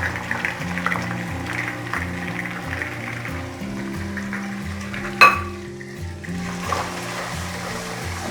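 Onions frying and being stirred in a pan while cooking lauki gosht, a steady sizzle with scraping strokes and one sharp metallic clink midway, over a continuous tonal hum in the background.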